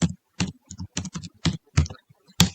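Irregular clusters of keystrokes on a computer keyboard during Python coding, close and fairly clear, arriving in short bursts with brief pauses between them.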